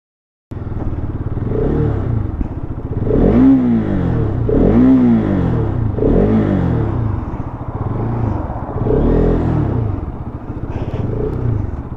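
A 2024 Bajaj Pulsar RS200 BS6 motorcycle launches in a drag race, its engine revving hard and loud through repeated rising sweeps as it shifts up through the gears, close and dominant throughout.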